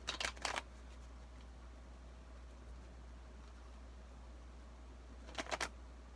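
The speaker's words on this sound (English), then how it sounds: "I'm going to shuffle the cards" Two short bursts of tarot cards being shuffled, one at the start and one near the end, with quiet hum in between.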